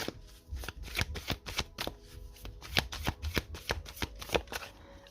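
A twin flame tarot deck shuffled by hand, giving a quick, rhythmic series of close papery flicks and riffles that runs steadily for several seconds without talk.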